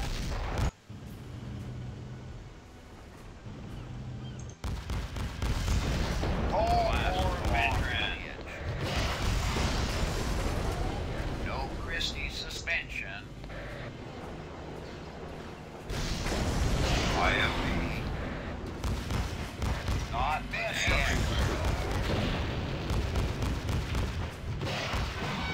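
Rocket launches and heavy explosions booming in dense, sustained waves across a Command and Conquer Generals Zero Hour Cold War Crisis mod skirmish, with T-72 tanks in play; loud and continuous, with brief lulls between barrages and a voice talking at times.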